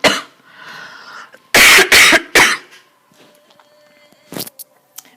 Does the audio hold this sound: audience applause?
no